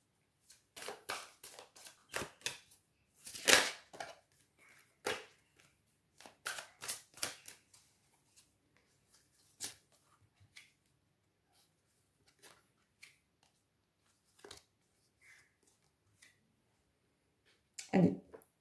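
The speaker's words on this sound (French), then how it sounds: "on va aller prendre des cartes du Lumina" Lumina tarot cards drawn and handled on a table, with soft scattered flicks, slides and taps in irregular clusters, close and quiet, with long near-silent gaps between them.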